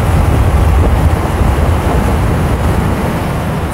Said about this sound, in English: Sorry for murdering your ears for the wind noise